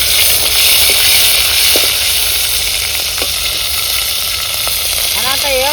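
Ground onion paste hits hot oil with a loud, close, hissing sizzle that stays steady, punctuated by a few brief clinks and a voice speaking near the end.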